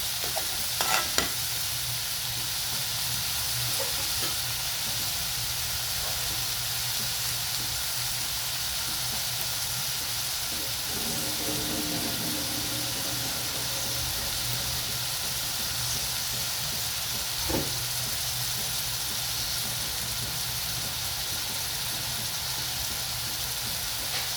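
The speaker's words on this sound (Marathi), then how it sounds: "झाकण ठेवून शिजवू द्यायचं आहे टोमॅटो" Tomatoes sizzle and soften in a pan for a Maharashtrian akka masoor dish, a continuous close frying hiss lasting over twenty seconds, with occasional stirring scrapes and light bubbling and no speech.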